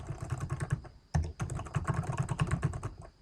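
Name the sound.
typing on computer keyboard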